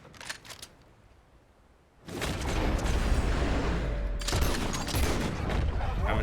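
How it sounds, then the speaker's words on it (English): Gunshots in Red Dead Redemption II, a few sharp cracks early followed by a loud, sustained rumbling burst of firing and impacts filling the rest of the moment. "Okay, 3 shots, he's dead."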